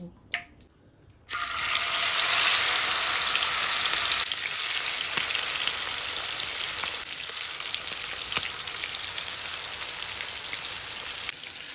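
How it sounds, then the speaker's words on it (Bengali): Marinated shrimp dropped into hot oil mixed with ghee, bursting into a loud, close sizzle after a brief quiet start, then settling into a steady frying hiss with occasional pops, no talk. "এবার মেখে রাখা চিংড়ি মাছগুলা ওই তেলের তেলের ভিতর ছেড়ে দেব"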